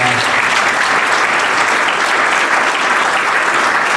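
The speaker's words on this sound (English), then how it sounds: "So can we give them another round of applause?" Dense, loud applause fills the room at a civic recognition event, a sustained wash of many hands clapping with no break, close and steady throughout.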